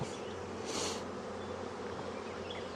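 Honeybees buzz steadily around an open hive two weeks after a split, a dense continuous drone close by with a brief brighter swell of wingbeats near one second.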